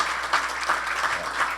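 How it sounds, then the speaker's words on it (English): Applause from the audience at an anniversary celebration and annual general meeting, a steady, moderately loud patter of many hands that stays even throughout, with no talking. "So big round of applause to Councillor Rutherford."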